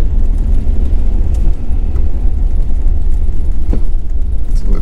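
A truck rolls up over a weigh scale, giving a steady, loud low engine and road rumble with a few faint clicks and knocks on top, and no voices.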